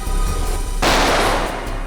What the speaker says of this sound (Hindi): हम लोग गोली की आवाज सुनकर बहुत डर गए थे